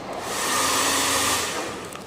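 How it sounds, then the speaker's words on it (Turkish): A hair dryer blows hot air onto a boat surface during a repair, a steady loud whoosh close by that runs about two seconds and then eases off. "bu şekilde bir saç kurutma makinesiyle sıcak hava üfleyerek ısıtıyoruz"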